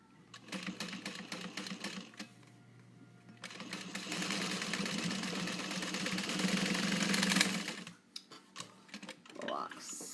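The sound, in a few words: sewing machine stitching a pouch seam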